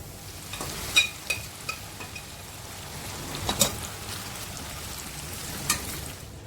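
Chicken pieces sizzle and crackle steadily as they fry in a hot pan, with a few sharper pops and stirring clatters over the constant hiss.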